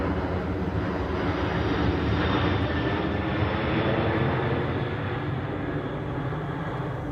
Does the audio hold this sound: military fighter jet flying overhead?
yes